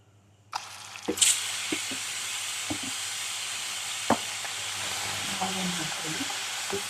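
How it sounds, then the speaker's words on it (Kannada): Cumin seeds and onions hit hot oil, starting a sudden loud sizzle that settles into steady frying, with a few sharp clicks and scrapes of stirring and no voices. "ಚೆನ್ನಾಗಿ ಫ್ರೈ ಮಾಡಬೇಕು ಆನಿಯನ್ಸ್."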